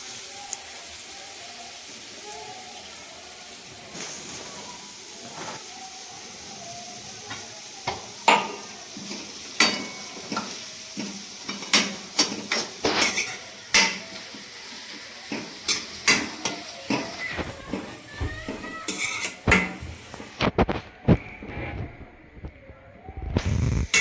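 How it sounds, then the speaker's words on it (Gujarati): Green turmeric and paste roasting in ghee sizzle softly while a spoon scrapes and stirs the pan, with clinks and scrapes growing busier and more frequent, close and alone without voices. "શેકીશું ઘીની અંદર ને હળદર અને એની સંગાથે આપણે જે પેસ્ટ બનાવી હતી એ પણ ઉમેરી દઈશું"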